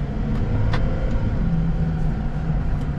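Ferrari LaFerrari hypercar engine idling steadily at a quarter-mile drag race start from a dig, a loud continuous low rumble with faint passing road noise and no talk.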